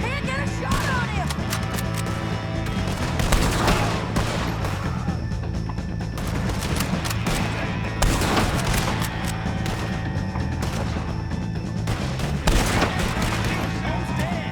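Bursts of gunfire in the video game Red Dead Redemption 2 during a wagon shootout, repeated volleys and booms in clusters over a dense game soundtrack.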